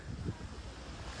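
Steady wash of surf and wind noise at the shore, a continuous low roar with no distinct voices.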